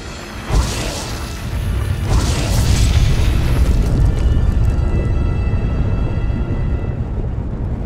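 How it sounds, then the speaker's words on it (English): Heavy orbital laser bombardment explosions in Star Wars: The Old Republic, a sharp boom followed by a second blast, then a sustained rumbling roar that slowly fades away. "Orbital weapon satellites right over our heads. They're firing on Makeb."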